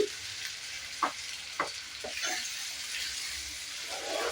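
Egg burji fries quietly in a pan under a soft, steady sizzle, broken by a few scraping strokes as the egg is stirred and turned.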